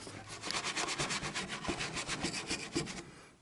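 Scrubbing a cracked plastic radiator overflow expansion tank from an old Chevy squarebody truck, a rapid run of rhythmic, close rasping strokes that keep a steady back-and-forth pace before stopping abruptly.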